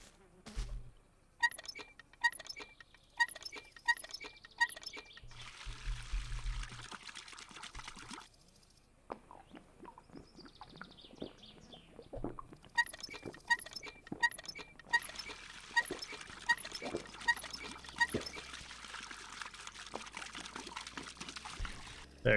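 Water is fetched in My Summer Car with trickling and pouring sounds in short bursts, mixed with clinks and clatter and long quiet gaps, faint and up close, with brief talk here and there.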